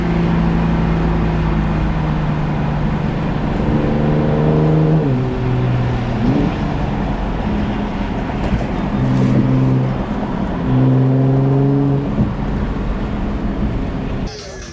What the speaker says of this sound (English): Traffic, of course there's traffic.